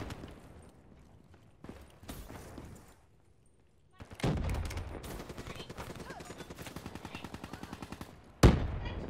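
Rapid automatic gunfire from a gun in a video game, coming in short bursts at first and then a long, loud, steady stream of shots, ending with one sharp heavy blast.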